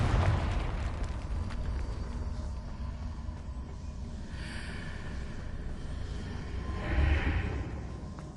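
The Confringo fire spell exploding in Hogwarts Legacy, a dense roaring rumble that swells into a louder burst near the end, with no talking.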